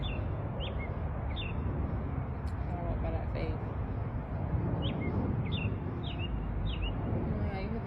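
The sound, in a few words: birds chirping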